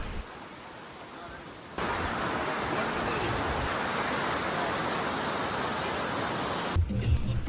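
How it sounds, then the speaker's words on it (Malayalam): Perumbankuthu waterfall near Munnar rushes in a steady, even roar that jumps louder after a quieter opening stretch, then holds constant and close for several seconds. "പെരുമ്പൻകുത്ത് വാട്ടർഫാൾസിൻ്റെ അടുത്താണ് നമ്മളിപ്പോൾ ഈ നിൽക്കുന്നത്"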